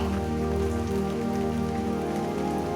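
Rain falls steadily on a surface, a continuous dense hiss of drops with an even, unchanging texture and no voices.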